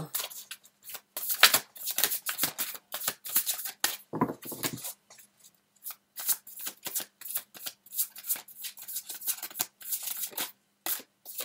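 Playing cards shuffled and laid out on a table during a tarot-style reading, a run of quick riffling and slapping bursts, close and fairly soft, with brief pauses and no talking.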